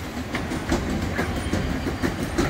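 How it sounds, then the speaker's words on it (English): A train rolls past close by at Chessington, with rhythmic clickety-clack of wheels over rail joints under a steady rumble. "It sounds like music, but it's just a train."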